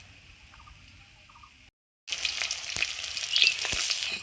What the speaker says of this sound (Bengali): এই মাছের ডিমগুলো ভাজা হয়ে গেছে খুব সুন্দর লাল লাল করে